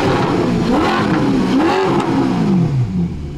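An Alfa Romeo 8C Spider's engine revs loudly close by, its pitch rising and falling through a couple of throttle sweeps before easing off at the end, with no talking.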